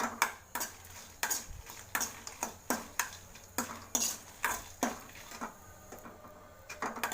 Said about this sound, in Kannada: ನಾಲ್ಕು ಒಣ ಮೆಣಸಿನ್ಕಾಯಿ ಹಾಕೊಂಡು ಇದನ್ನು ಸ್ವಲ್ಪ ರೋಸ್ಟ್ ಮಾಡ್ಕೋಬೇಕು